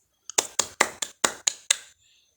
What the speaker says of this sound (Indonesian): mari kita berikan tepuk tangan untuk kelompok